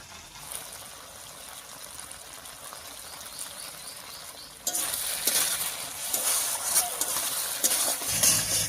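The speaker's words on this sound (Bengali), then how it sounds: "লবণ হলুদ দিয়ে খুব ভালো করে মিশিয়ে নিয়েছি" Spice paste with salt and turmeric being stirred in a pan for a chicken curry with sola kochu, a soft scraping and sizzle that grows louder midway through, with no talk.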